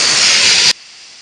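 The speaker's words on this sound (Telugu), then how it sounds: "రెండో విజిల్ అయితే వచ్చిందండి." A pressure cooker whistle releasing steam while cooking dal rice, heard as a loud, steady, full-band hiss that cuts off abruptly partway through, leaving a faint background hush.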